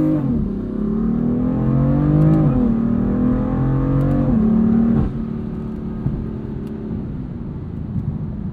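A tuned 2015 BMW M4 with a dual-clutch transmission and about 530 hp revs hard through the gears, its engine note climbing in steady sweeps with quick shift drops, then settling into a lower cruising drone; loud and close, with no talking.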